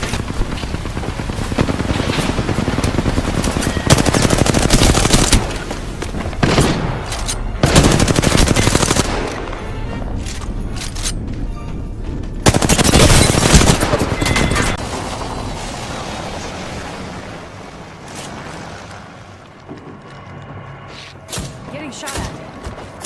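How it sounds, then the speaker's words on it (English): Gunfire in a video game rattles in loud bursts and rapid volleys, mixed with thuds and chaotic effects, while a voice talks over the action. "Getting shot at."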